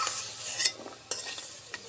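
A spoon scrapes and clinks in a pan of hot oil, lifting out fried potatoes, with a few sharp metallic knocks over a soft, continuous sizzle.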